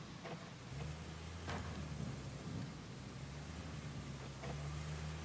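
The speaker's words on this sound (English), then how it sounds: "It's kind of rainy out." Rain and thunder in the RoadCraft video game, a road-building game: a steady wash of rain with low rumbling underneath and a few faint, brief cracks, heard without talk.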